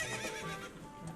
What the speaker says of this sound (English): people might try to shoot the horse and make Epona make a noise